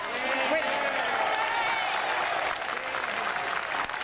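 Members of Parliament clap and murmur together in the chamber, a steady wash of applause mixed with crowd voices and talk lasting the whole stretch.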